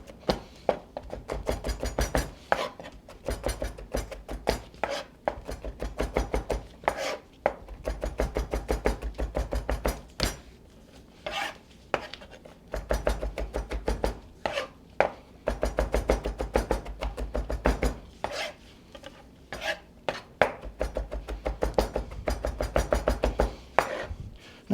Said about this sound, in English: The garlic I'm just going to mince very fine.